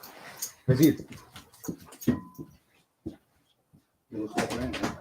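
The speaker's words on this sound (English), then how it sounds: "That's a dog." A dog whimpers in short, faint, high whines scattered between bursts of people talking in German and English, with quiet gaps between sounds.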